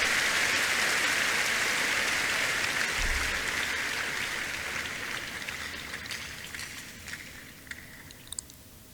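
A church congregation claps in praise of the Lord, dense sustained applause that slowly fades toward the end, with a few sharper claps near the close.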